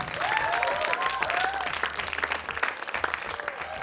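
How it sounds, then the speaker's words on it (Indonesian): An audience applauds at the grand final of a televised Quran recitation competition, with brisk, dense clapping and a few voices or whoops over it, loud at first and then easing slightly toward the end. "tepuk tangan buat Fatma."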